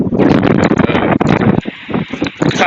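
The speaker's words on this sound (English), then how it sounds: "It's so windy out here." Strong wind buffets the microphone in loud, gusty rumbling bursts, easing slightly near the end.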